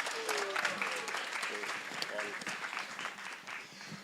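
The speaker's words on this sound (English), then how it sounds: "Let's have a round of applause for Prem Sindhu Prabhu." An audience at a religious gathering applauds Prem Sindhu Prabhu, sustained clapping of moderate loudness that slowly tapers off, with voices talking underneath.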